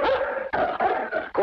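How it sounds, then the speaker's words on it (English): A hound in a 1950s Western TV episode barks in a continuous run of loud, close, harsh barks and growls, separated by brief breaks, with no talking over it. "What's the idea of bringing that hound in here?"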